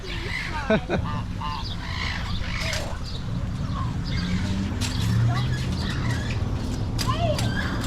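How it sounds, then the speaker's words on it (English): Several geese honk intermittently at close to moderate range at a fruit stand's animal area, mixed with other bird calls over a steady background murmur. "There are geese."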